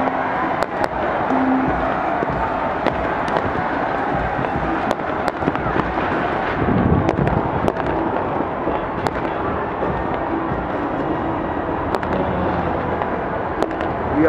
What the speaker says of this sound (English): There's fireworks everywhere, y'all.